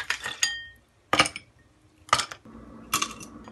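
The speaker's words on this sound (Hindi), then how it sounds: "अब इसमें डालेंगे बर्फ़। बहुत सारा बर्फ़ डालिए।" Ice cubes clink into a glass of aam panna as it is being made. There are four separate bursts of clattering, each a short and bright rattle of ice against glass, with brief pauses between them.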